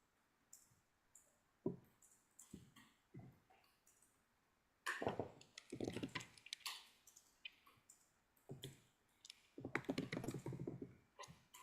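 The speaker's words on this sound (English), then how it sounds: "Sorry, I'm typing." Someone types on a computer keyboard in short bursts of rapid clicking key presses separated by pauses, close and fairly quiet, with no talking.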